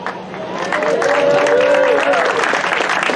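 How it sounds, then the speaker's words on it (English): Schoolchildren cheer and applaud at a school ribbon cutting, a dense burst of clapping with a high shout riding over it, loud and sustained throughout. "The big cheer."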